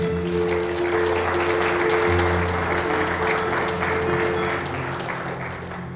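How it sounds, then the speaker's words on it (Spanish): A church congregation claps for the Lord after a prayer, dense and continuous applause spreading evenly through the room, with sustained organ-like tones held underneath and the clapping thinning slightly toward the end. "Aplauda al Señor"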